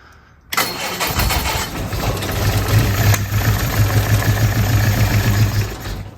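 A Crosley engine on its first start of spring cranks over, catching briefly and sputtering with a steady rhythmic chug that runs loud and close from about half a second to the end.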